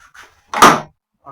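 A Ford GT40 replica's driver's door is slammed shut once with a firm, loud thud, a short pause of quiet on either side.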